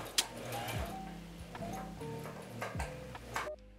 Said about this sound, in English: I'm sewing it, just good old sewing machine, straight stitch all the way around.